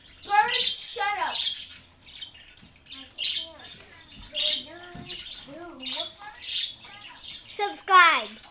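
Shrill squawks and rapid chirps from pet birds kept indoors, coming in close, loud bursts one after another across the clip, with some talk mixed in.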